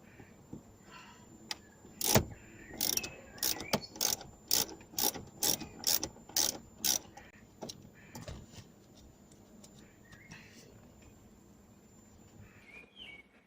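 Ratchet clicking as a screw is backed out of the center console of a Porsche Boxster 986, a rapid run of about a dozen sharp, close mechanical clicks, then quieter handling noises.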